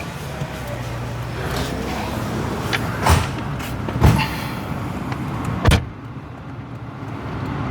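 A Toyota Crown car's engine runs in a steady, close rumble broken by a few sharp knocks or thumps, with no one speaking.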